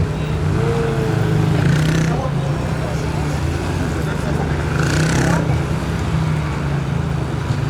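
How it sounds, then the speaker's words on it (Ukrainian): A Yamaha YBR250 training motorcycle runs at a motogymkhana competition, its engine holding a steady drone that swells and eases slightly, with people talking over it. "Класика японської і мотоджинкани колись, і навчальний мотоцикл."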